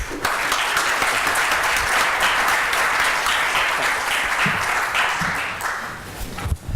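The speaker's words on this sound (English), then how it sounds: "So please give a warm round of applause for Sudeep Nandi." A conference audience breaks into sustained applause, a thick and even wash of many hands clapping at steady loudness that begins to thin out toward the end.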